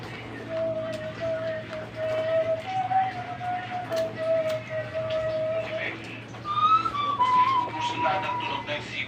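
A tuneful whistled melody, steady and fairly clear, carries over a low constant hum, pausing briefly before resuming at a slightly higher pitch.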